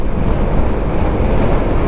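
Strong wind roars and buffets steadily against a Suzuki Raider 150 fi motorcycle rider travelling on an expressway, a loud, constant rushing broadband noise with no speech.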